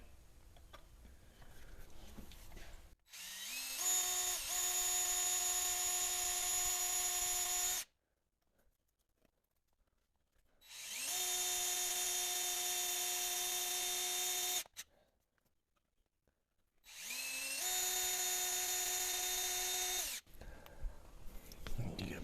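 A power drill fitted with a 5/32 bit drills out a broken bolt, running in three long, steady, loud whining bursts separated by short pauses.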